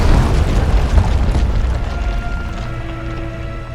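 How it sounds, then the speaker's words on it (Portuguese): A huge explosion from Frieza's energy blast in a Dragon Ball fight, a loud sustained rumbling roar with a deep boom that slowly fades into a low droning hum. "A explosão é imensa."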